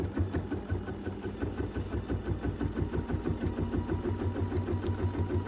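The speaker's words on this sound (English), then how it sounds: "So I'm going to go ahead and quilt down this row." A quilting machine stitches a row across a quilt, a rapid, even mechanical chatter with a low steady hum throughout, close and continuous with no voices.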